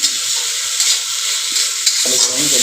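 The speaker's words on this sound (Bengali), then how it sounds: "চিনিটা গলা অবধি আমরা এইভাবে একটু নাড়াচাড়া করতে থাকবো" Sugar syrup being stirred into basanti pulao in a pan over a medium-low flame, a steady loud sizzle with the scrape of a spoon working through the rice, no voices.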